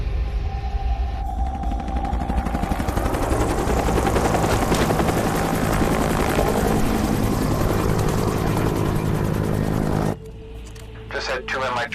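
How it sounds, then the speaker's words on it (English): Two Mi-28 helicopters pass in a loud, sustained rotor roar that swells and holds for about ten seconds before cutting off abruptly, with voices talking underneath. "Just had 2 Mi-28s fly by"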